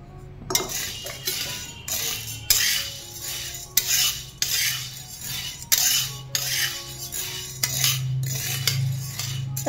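Sago pearls dry-roasting in a pan while being stirred with a metal spoon: repeated loud scraping clinks against the metal in an uneven rhythm over a faint constant rattle of the grains.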